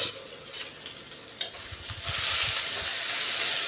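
A spoon stirs drumstick leaf stir-fry in a pan, scraping and clinking in short strokes over a steady frying sizzle and hiss that swells louder midway.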